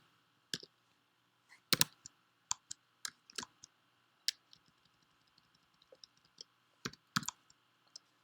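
Keys click on a computer keyboard in a quiet room, a sparse run of faint, sharp taps scattered unevenly across several seconds, with a few louder strokes standing out among the light typing.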